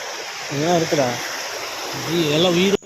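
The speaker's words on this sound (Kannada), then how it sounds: "ಕೋಡಿ ಬಿದ್ದು ನೀರು ಹೋಗ್ತಿದೆ ನೋಡಿ" Water overflowing a lake's weir makes a steady broadband rush, close and fairly loud, while people talk over it.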